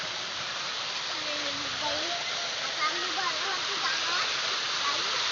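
Rushing waterfall roars steadily and close by in a rocky stream setting where crabs are being caught, a broad continuous wash with faint voices talking briefly in the background.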